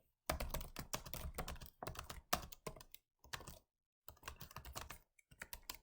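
Fast computer keyboard typing in dense bursts of clattering keystrokes, close and clear, broken by short silent pauses between bursts, with no voices.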